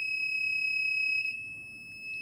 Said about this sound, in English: when both the vehicles are entering into a particular road, you can see the red alerts with the buzzers